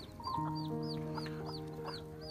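Hmong chickens clucking during a corn feeding, several birds giving repeated short rising clucks in a loose rhythm, close and clear over a soft steady background hum.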